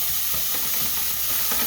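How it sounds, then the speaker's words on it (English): Onion sautéing in oil and being stirred around a pan, a loud, steady sizzling hiss with faint scraping of the stirring beneath, close up and without speech. "I'm just stirring this around so it all gets coated with that oil"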